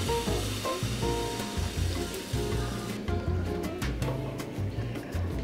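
Pancake batter frying in a pan, a steady close sizzle with faint kitchen clatter running underneath throughout.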